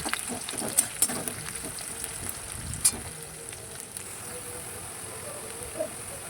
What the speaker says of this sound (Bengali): দিয়ে দেবো কুচনো পেঁয়াজ এটাকে ভালোভাবে লাল লাল করে ভেজে নেব ফার্স্ট